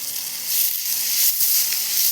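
Mango pieces stirred in a hot frying pan while cooking mango rice give a steady, close sizzle with soft scraping, continuous and alone without speech.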